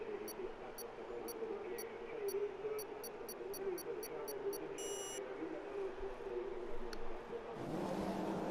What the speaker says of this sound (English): the drivers getting ready for their formation lap, and away they go